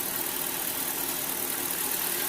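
A Mercedes S430 W220 V8 idles steadily just after its first start-up in a long while, a constant broadband engine hum with no voices and no change in pace.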